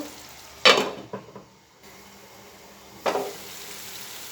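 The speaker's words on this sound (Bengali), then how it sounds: "আমার আলুগুলা কষানো হয়ে গেছে" Potatoes frying in a pan, with a couple of sharp sizzling bursts as they are stirred and quieter stretches between, close and without talk.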